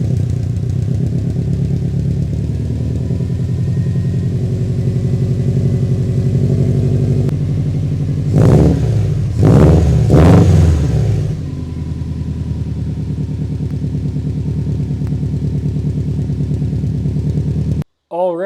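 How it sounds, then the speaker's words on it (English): A Subaru STI fitted with a lightweight racing battery idles low and steady, with three short revving bursts in the middle before settling back to idle and cutting off at the end. "We're gonna get a quick cold start in. I'll get you guys set up behind the car. Let's see if this car turns on."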